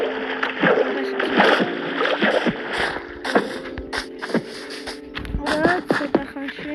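Splashing and paddling water sounds from swimming in Minecraft, with repeated sloshing strokes and game effects under steady talking.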